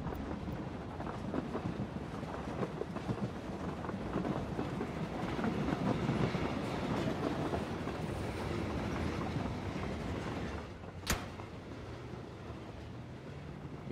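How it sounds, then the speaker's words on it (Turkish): Train passing in the PUBG video game, a long loud rumbling roar with rhythmic wheel clatter that swells mid-way and then fades, ending with a brief sharp bang. "Buradan da tren geliyor bakalım."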